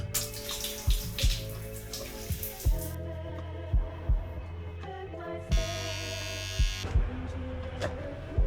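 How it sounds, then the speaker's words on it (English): Water running through a home water filter, a broad hissing flow in two separate stretches over a steady electrical hum, with soft periodic thumps; no one speaks. "I have a water filter."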